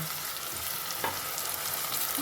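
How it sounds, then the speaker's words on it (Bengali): Coriander leaf paste frying in a pan for coriander rice, a bright continuous sizzle close up with a brief stirring scrape midway. "এবার আমি এই পেস্টটা দিয়ে দেবো ধনে পাতার"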